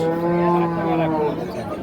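A Sahiwal cow with her calf at a cattle market gives a single loud, close moo. The low, drawn-out call swells and then tails off over about two seconds.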